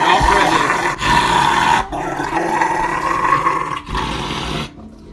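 A dog growling up close, a loud, deep, sustained rumbling snarl broken by a few short pauses for breath, ending abruptly.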